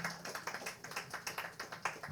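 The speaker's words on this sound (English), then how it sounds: "Keep clapping until they get here." Audience applause at a gathered event, with steady irregular clapping of many hands throughout, moderately loud and continuous with no talk over it.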